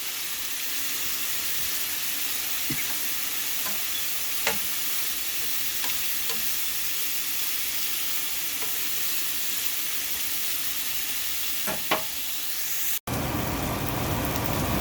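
Shrimp sautéing in a pan with zest, a steady broadband sizzle running throughout with occasional light clicks of stirring, close and even, no voices.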